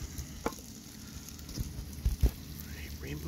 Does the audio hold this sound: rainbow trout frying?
yes